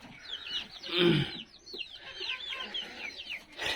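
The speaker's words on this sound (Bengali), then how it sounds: "পৃথিবীর সবচেয়ে ছোট এবং সুন্দরতম মুরগির মধ্যে হচ্ছে অন্যতম একটি মুরগি হচ্ছে জাপানি বেনথাম" Japanese bantam chickens cluck on a poultry farm, giving a busy run of short, close clucks and chirpy calls that overlap throughout.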